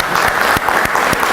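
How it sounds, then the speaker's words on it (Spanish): A short burst of audience applause at a history lecture event after a recognition is presented, loud dense clapping with a few sharper claps standing out, no talk. "Otro aplauso"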